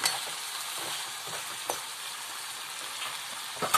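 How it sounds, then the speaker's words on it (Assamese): Steady sizzling of meat frying in a pan, with occasional scraping clinks as it is stirred, no voices. "এয়া মাংসটো অলপ হিলোৱাইছে, লৰাইছে"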